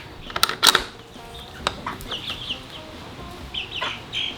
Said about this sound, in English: I wanted to show you guys the meat birds and how they're coming along